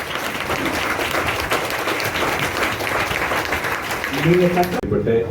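A standing crowd at a school COVID relief event claps energetically, a thick steady wash of applause; a voice begins speaking over it toward the end before it cuts off.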